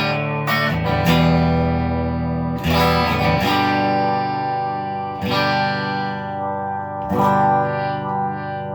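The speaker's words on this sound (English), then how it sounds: "the sound you get when you click on a little distortion" Overdriven electric guitar chords ring out and sustain, struck again every couple of seconds with a gritty, distorted tone, played on the bridge and middle pickup with 0.0068 tone capacitors.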